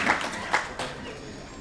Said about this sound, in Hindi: जोरदार तालियां एक तो हो जाए जितनी हमारी बहनें यहाँ पर बैठी हैं